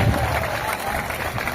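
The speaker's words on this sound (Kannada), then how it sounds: "ನಿಮ್ಗೆ ದೊಡ್ಡ ಚಪ್ಪಾಳೆ ಮುಖಾಂತರ let us welcome mister Mohammed Rafi Pasha" An audience at a students' felicitation ceremony breaks into steady, dense applause to welcome the chief guest, a loud, continuous wash of clapping from a crowd filling the short moment.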